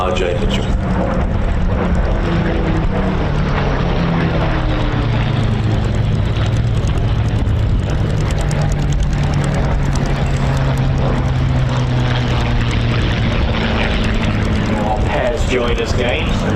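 Supermarine Spitfire Mark 9 and Mark 16 flying at an airshow give a steady, loud rumbling engine drone that persists throughout, mixed with continuous commentary over a public address.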